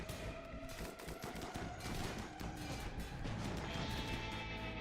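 Several chain shotguns in RimWorld fire in rapid, overlapping bursts, a dense crackle of blasts continuing throughout, with scattered impacts under the gunfire.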